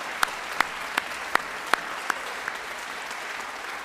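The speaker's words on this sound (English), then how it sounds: "Let's give another round of applause to the bands." At a youth brass band championship results ceremony, a handful of sharp hand claps ring out at an even, steady pace, fairly faint and thinning toward the end, with no talk over them.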